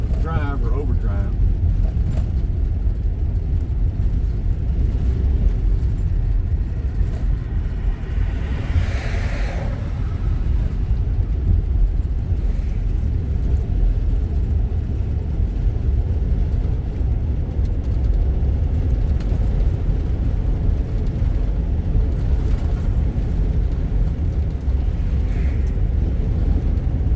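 A car cruising on a Georgia country road with the transmission in overdrive, giving a steady low engine and road rumble that stays constant and fairly loud throughout.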